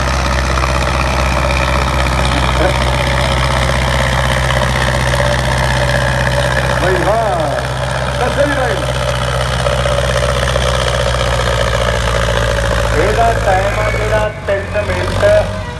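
A tractor's engine idling at a tractor pulling contest in Khanpur, Ludhiana, a loud steady low rumble with hum that drops off near the end, with voices and crowd noise over it.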